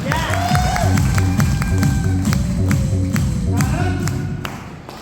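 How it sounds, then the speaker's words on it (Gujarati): An audience at a seminar breaks into loud, dense clapping with some cheering and raised voices, sustained throughout and tapering slightly at the end, over faint tonal music. "એમના માટે એકવાર જબરજસ્ત તાળી થઈ જાય"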